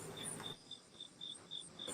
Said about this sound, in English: those crickets are happy as hell